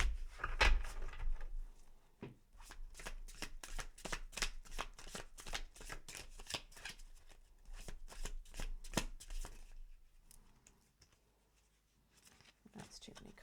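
A tarot deck is shuffled close by in quick riffling bursts that come in steady runs, then thin out into a few softer card sounds with quiet gaps between them.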